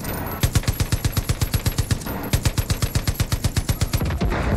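Rapid automatic gunfire in the video game Far Cry 5, aimed at a lock: two loud, evenly spaced bursts of around twenty shots each, separated by a brief pause, with no talk over it.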